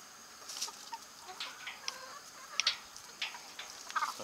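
Backyard chickens clucking the food-found call, several birds overlapping in short bursts of near, moderately loud clucks scattered over a steady outdoor background.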